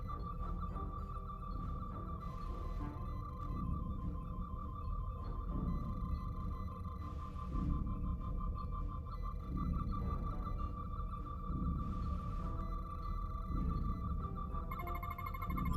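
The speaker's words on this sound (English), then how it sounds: "Better to rely on my tricorder." A tricorder scanning in the Star Trek Resurgence video game, a steady electronic tone pulsing rapidly and repeatedly over a low hum, with soft whooshing swells at intervals and quiet throughout.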